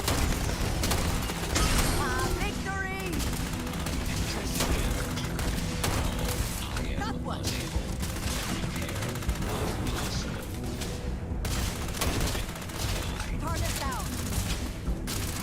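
Rapid bursts of gunfire ring out in the video game Starfield, dense overlapping shots and volleys crackling continuously amid a busy battle, with a voice and electronic chirps mixed in.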